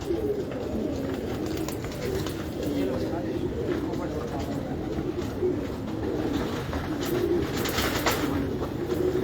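Pigeons coo continuously inside a loft, a thick chorus of low, rolling calls from several nearby birds, with faint voices under the flock.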